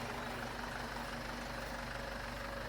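An old John Deere tractor engine idles steadily nearby, a low, even rumble with a constant drone and no break, heard alone without voices.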